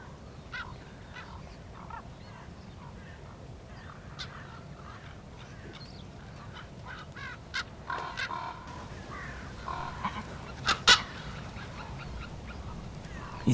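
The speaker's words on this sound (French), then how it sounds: "Ce grand corbeau s'impatiente et vient lui tirer la queue." Common ravens call around white-tailed eagles feeding on dug-up offal, a scattering of harsh croaks and caws over steady low background noise, growing louder and closer toward the end.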